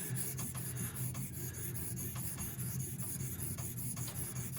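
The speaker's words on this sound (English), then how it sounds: "So I'm going to refine that now using a 1000 grit stone." A kitchen knife is drawn across a 1000 grit Cyrax whetstone, giving a steady, close gritty rasp with faint repeated stroke edges that run continuously for the whole stretch.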